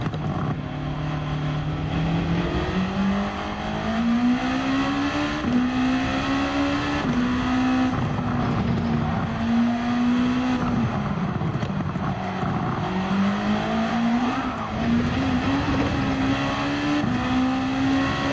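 Race car engine in Gran Turismo 7, revving loudly and continuously, its pitch rising and falling with throttle and gear changes as the car laps a time trial, no talk over it.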